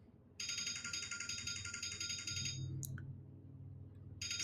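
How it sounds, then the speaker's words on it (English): A telephone rings indoors, a steady electronic warbling tone that plays for about two seconds, pauses, then starts again, fairly clear over a low room hum. "Should I get the phone? I think I'm going to let it ring"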